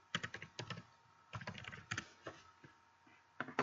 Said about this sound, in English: wait, let me type it in.